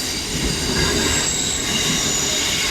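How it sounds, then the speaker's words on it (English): Commuter train SMU 284 rolls through Roma Street station nearby, a steady loud rumble of wheels on rails with a high squeal running throughout and no voices. "so I will film this train though"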